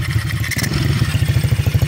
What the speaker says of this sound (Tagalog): Napakatahimik lang ng makina, oh.